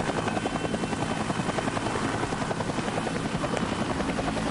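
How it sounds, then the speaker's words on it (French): Helicopter rotor chopping steadily in the background of a video game scene, a dense continuous whir with rhythmic blade pulses, moderately loud and unbroken. "Bruit de sirène et d'hélicoptère dans le fond."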